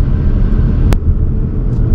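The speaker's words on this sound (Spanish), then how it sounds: "lo que más me gusta de este coche, más allá de su ergonomía, es su maravilloso motor de 310 caballos" Cupra Formentor 2.0 TSI with a 310 hp engine, driving: a steady low rumble of engine and road noise from inside the car runs throughout, broken by one brief sharp click near the middle.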